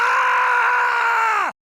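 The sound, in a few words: voice imitating the werehog scream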